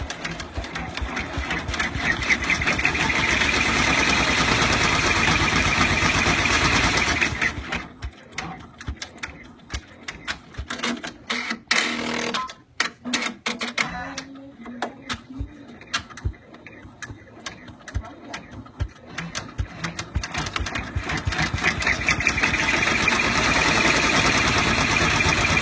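A Brother embroidery machine stitching black thread runs with a rapid, steady mechanical clatter, pauses and stutters into irregular ticks and clicks midway, then resumes its continuous close buzzing.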